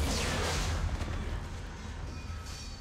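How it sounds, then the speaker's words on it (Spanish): An in-game explosion in Mass Effect 3, a loud deep rumbling blast that swells at once and then slowly decays into a fading roar. "Oye, una explosión buena."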